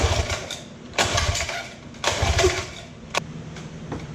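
A 1956 Johnson 30 hp outboard engine cranking on a homemade electric starter, several short bursts of whirring turnover separated by pauses, close and fairly loud, without catching.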